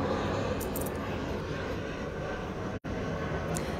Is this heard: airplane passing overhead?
yes